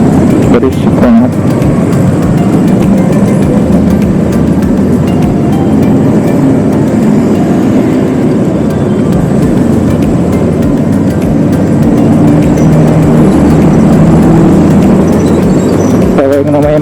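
Loud traffic-jammed street, a dense, continuous roar of engines and road noise close by that persists for the whole stretch, with no talking over it.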